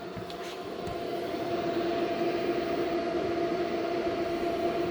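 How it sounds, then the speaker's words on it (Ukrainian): A steady, rising whirr of an inverter's cooling fans under load from an electric oven fills the space, a constant mechanical hum with a broad airy hiss, loud and continuous. "І одразу чутно кулери."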